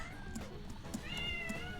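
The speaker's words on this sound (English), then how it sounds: "I have a real-life cat here." A cat meows indoors, a few short, soft mews close by in a quiet room, with faint background sound beneath.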